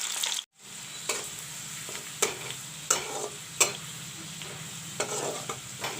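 Cut onions frying in a pan for a drumstick, cauliflower and potato curry, a steady close sizzle broken by several sharp scraping stirs and a brief drop to quiet near the start.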